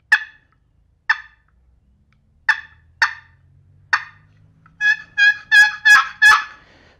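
A wooden box call imitates a turkey's clucks: five single sharp clucks spaced about a second apart, then a quick run of five louder, more drawn-out notes, close and clear with no voices.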